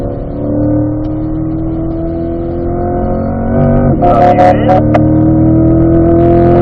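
A race car engine drones loud and close as the car accelerates out of a corner, the pitch climbing steadily, with a brief mechanical clatter partway through.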